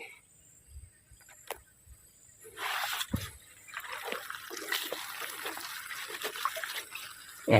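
Liquid poured around the base of a durian tree growing among rubber trees, starting quietly and then becoming a steady trickle and splash on the ground.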